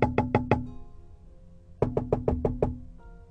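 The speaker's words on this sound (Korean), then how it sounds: "나는 그곳으로 걸어가 문마다 노크를 했다." Knocks on the doors of public toilet stalls come as two quick runs of four and then six crisp, hollow raps, with a quiet gap between them and no voices.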